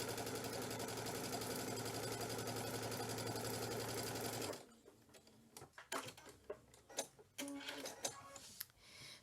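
A sewing machine runs a seam with a felling foot, stitching continuously and loudly for about four and a half seconds, then stopping; faint clicks and handling noises follow close by.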